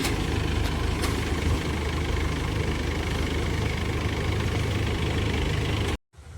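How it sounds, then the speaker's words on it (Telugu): A tractor engine idles steadily at a rice harvest site in a village, a continuous low rumble held close and loud that cuts off abruptly near the end. "ఈ ట్రాక్టర్ వెళ్తుంది కదా, అది మనకే."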